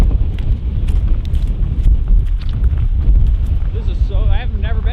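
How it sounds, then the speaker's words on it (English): Extremely strong wind at the Homer Spit, a loud, continuous buffeting roar pounding the microphone throughout, with low rumbling gusts that never let up. "The tide's actually going out now, but it's extremely windy out here."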